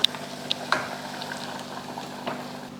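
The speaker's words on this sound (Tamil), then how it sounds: "இப்போ இதை கொள்ளு பயிரில் ஊற்றிடலாம்" Fried onion tempering tipped into cooked horse gram, a soft bubbling and sizzle with a few sharp clinks at the start, close and fairly quiet, no talking.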